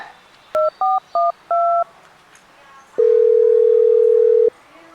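Phone keypad tones from a number dialed on a mobile phone: four short, evenly spaced dual-tone beeps, then a single long, loud steady tone lasting about a second and a half, with no voices.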